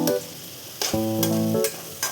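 Ground green chili paste with turmeric sautés in oil in a pan, short bursts of sizzle and stirring broken by brief pauses, with a tonal hum underneath.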